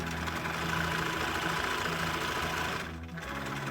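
A sewing machine stitches fabric for a lined double drawstring bag, its motor whirring in a steady, close hum that stops briefly near the end and then starts again.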